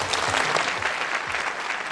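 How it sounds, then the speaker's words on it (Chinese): A studio audience at a televised family-dispute talk show claps loudly and steadily, a dense wash of applause with no break. "掌声有请先生"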